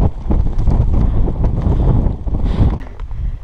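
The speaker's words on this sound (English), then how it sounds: "It's a bit windy." Gusty wind buffets the microphone on an exposed hilltop at sunrise, a loud continuous low roar that surges and dips, briefly easing near the end.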